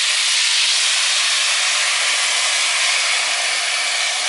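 Chicken broth is poured into a very hot soup pot alongside potatoes and tomato purée, raising a loud, steady, broadband hiss that carries on unbroken with no voices.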